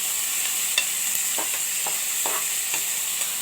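Onions frying on a high flame in a pan for an Andhra-style brinjal and tamarind-leaf curry, with a steady close sizzle and occasional soft stirring scrapes throughout, no voices.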